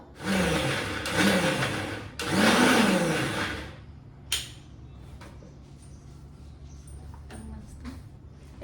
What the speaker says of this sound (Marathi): तर आता याला मिक्सरमध्ये बारीक करून घेते